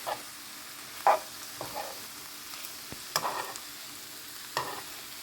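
Mushrooms and potatoes sizzling gently in a pan, with a few soft scraping stirs and clicks of the utensil over the steady, quiet frying hiss.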